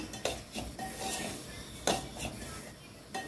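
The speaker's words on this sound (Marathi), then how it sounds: "आता हे चांगलं रवा चांगला भाजून घ्यायचा।" A spoon scrapes and clinks in a pan as coarse semolina is stirred and roasted, with repeated close metallic scraping strokes and a few sharper knocks.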